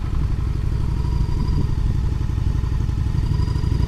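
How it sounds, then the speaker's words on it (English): Motorcycle engine during gymkhana practice in a parking lot, a loud, close, steady throbbing idle-to-rev rumble with a rapid rhythmic pulse throughout, no talking. "So, throttle it out. Hit second gear before you turn, and just do a big loop"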